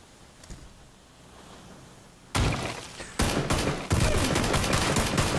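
Gunfire in the PUBG battle royale game: a quiet stretch gives way to three loud, sharp bursts of shots, each followed by dense crackling fire, with no talking.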